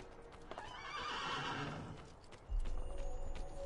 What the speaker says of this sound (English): I think the horse is upset with me